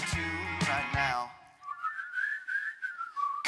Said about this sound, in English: Come on, everybody, and whistle a tune right now.